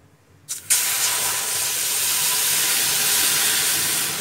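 Water poured into a hot pan of golden-fried moong dal sets off a sudden loud hiss of steam and sizzle that holds steady and close until the end.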